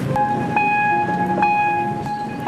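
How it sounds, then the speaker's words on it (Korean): A railway crossing warning signal sounds beside a market, ringing loud steady tones with short pulses repeating about every half second over a low rumble. "다시 기차 경고음이 들리고"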